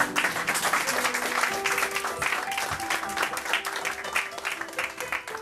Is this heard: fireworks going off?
no